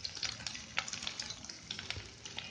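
Garlic frying in hot oil in a pan, after ginger, while making a fish egg cutlet: a steady, soft crackling sizzle with small pops throughout, close and fairly quiet, with no talk.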